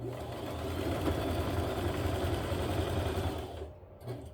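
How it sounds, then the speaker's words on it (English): A sewing machine runs steadily for about four seconds, stitching down the center of a strip of elastic for a quilt, its motor whirring evenly and close before it stops near the end. "I'm stitching right down the center of that elastic"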